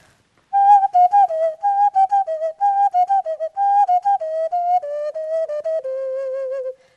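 An ocarina plays a simple melody of short and held notes, clear and breathy, solo and close, ending on a long low tone.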